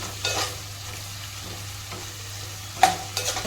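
Chopped onions fry in a pan for a chicken curry, giving a soft, steady sizzle broken by a few brief scraping stirs near the start and end, with no voices.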